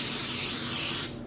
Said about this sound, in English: keep spraying as much of this